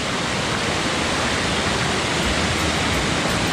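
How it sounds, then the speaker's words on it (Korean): A mountain stream on Juheulsan in Mungyeong pours down a rock face, giving a loud, dense, unbroken rush of water close by with no voices. "아, 또 물이 우렁차게 또 내려오고 있네요."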